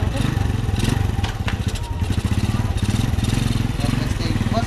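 A manual motorcycle engine idles close by with a loud, steady, rapid putter, and people talk over it.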